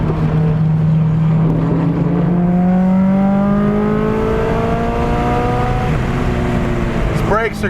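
A modified 420 whp 2001 Subaru STI on a race track, its engine revving up in steady rising pulls, heard loud and close from inside the car.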